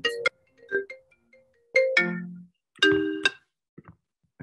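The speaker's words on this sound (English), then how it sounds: "I'm getting phone calls from people." An incoming phone call sets off a ringtone, a loud chiming melody of several distinct tonal bursts with gaps between them and no talk over it.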